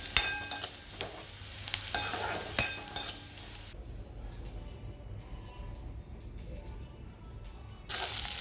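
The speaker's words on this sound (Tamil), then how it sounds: "பிரண்டையே நல்லெண்ணெயிலே வதக்கணும்" Pirandai (adamant creeper) is sautéed in sesame oil in a pan: a close, bright sizzle with scraping stirs and clinks that drops to a quiet lull midway, then bursts back at the end.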